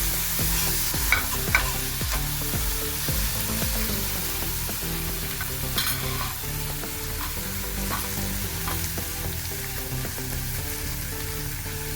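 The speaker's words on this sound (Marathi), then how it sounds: "कढीपत्ता झाल्यानंतर आपण लगेचच कोथिंबीर टाकून देणार आहोत, कारण ती पण छान होऊन जाते।" Curry leaves and coriander fry in a pan for aloo paratha filling, a steady close sizzle with frequent stirring scrapes and a few sharp clinks, no talk.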